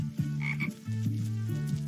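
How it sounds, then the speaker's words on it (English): A frog croaks in the forest in a close, loud, rhythmic series of low pulsing calls, three or four drawn-out croaks in quick succession with a brief higher chirp between them. "That frog has a really neat pattern on its back."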